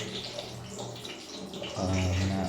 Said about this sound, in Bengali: এই মাংসটাকে ভালো করে ধুয়ে